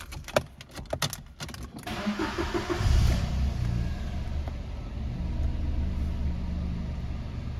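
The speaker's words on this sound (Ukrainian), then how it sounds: "Двигун працює ідеально, помилок ніяких не вибиває." A few clicks and rattles, then the small engine of a 2008 Citroen C1 cranks and catches, settling into a steady, even idle hum.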